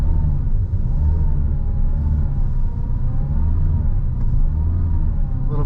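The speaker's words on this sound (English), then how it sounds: "A little bit of wheel spin there." A car engine revs with low rumbling as a Porsche Cayman on Bridgestone Blizzak WS-90 winter tires strains to accelerate in snow, the pitch rising and falling as the wheels slip.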